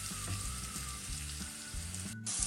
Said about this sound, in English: let's put all the spices that I mentioned earlier. And let's stir all together.